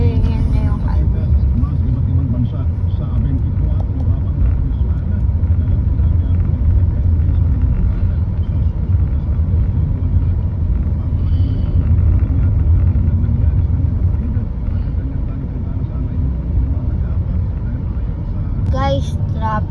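Steady highway traffic rumble heard from inside a moving vehicle, a continuous low road and engine drone with a brief sharper noise near the end.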